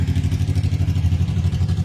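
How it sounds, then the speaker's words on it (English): A loud motorcycle rumbles past close by, with a steady, heavy, throbbing low engine note that holds for the whole moment. "here comes somebody on a loud motorcycle"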